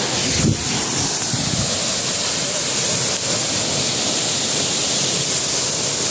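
The Fung Fung waterfall in Nuwakot roars in a steady, dense wash of falling water, loud and unbroken throughout, with some wind buffeting the microphone.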